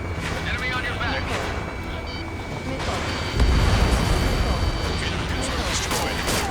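Explosions destroying ground targets in the combat flight game Ace Combat 7: a sustained rumbling roar with a heavy boom swelling about halfway through, mixed with radio-style voices and engine drone.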